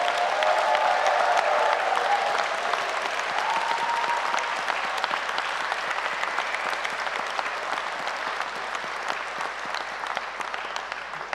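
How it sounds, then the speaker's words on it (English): Sustained applause from a large graduation audience in a hall at Edinburgh Napier, a dense, loud wash of clapping that continues steadily and fades slightly toward the end. "let's honor them now with the loudest, most joyous applause we can give"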